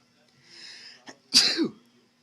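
A single sharp sneeze bursts out after a brief quieter breath and a soft intake, close and loud, then fades quickly.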